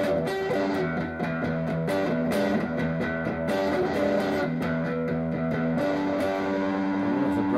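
Heavily distorted electric guitar through a Fender amp playing chugging chords and sustained notes, loud and continuous with a thick, saturated tone.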